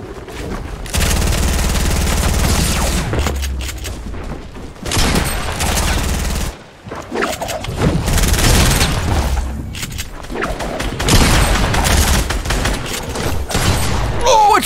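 Dense, loud gunfire and booming shots in a Fortnite Team Rumble match, coming in sustained bursts with a short lull around the middle and some talk mixed underneath.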